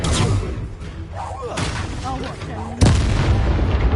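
A Confringo fire spell in Hogwarts Legacy on PS4 lands as heavy booming blasts, with one sharp, loud explosive burst standing out over a dense, continuous background of in-game battle noise and voices.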